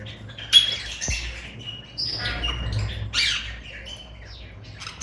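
Small parrots in a pet bird shop in Islamabad, including a Lutino Opaline breeder pair, give bright, overlapping chirps and squawks in quick bursts, close and fairly loud, with no talking.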